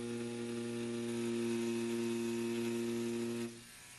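A tattoo machine, an XNET Vane rotary, buzzes steadily during tattooing, a loud constant electric hum with a bright whine that drops off abruptly near the end.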